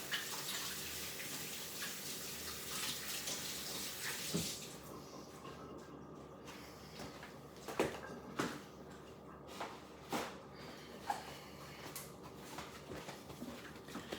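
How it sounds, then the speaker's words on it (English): Hands washed under a running kitchen tap in a home kitchen, a steady hiss of water for several seconds followed by quieter splashes and a few clicks and knocks, close but faint. "I'm gonna go wash my hands now."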